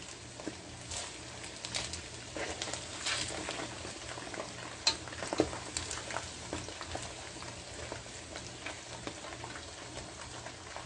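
Protein fries in a pan with a steady, moderate sizzle and bubbling, with occasional soft pops and stirring noises throughout.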